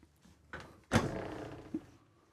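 A quiet door on a 2023 Newmar Super Star 4059 motorhome opens with a soft click, then a louder sliding thunk and a short rattle, followed by a small knock at the end.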